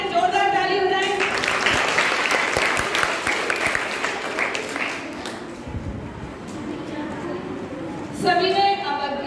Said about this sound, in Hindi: तो आखिरी राउंड है, जोरदार ताली बजाएं।